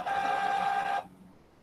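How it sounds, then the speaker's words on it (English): A printer's mechanism in another room runs with a steady whirring tonal buzz for about a second, then stops abruptly, leaving faint room noise. "Is Mom printing something from the bedroom?"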